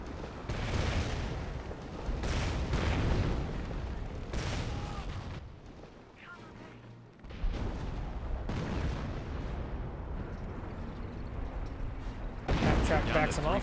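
A half-track firing in Company of Heroes, with repeated bursts of gunfire and booming battle noise across the scene, broken by a short quieter lull, with a commentator talking over it.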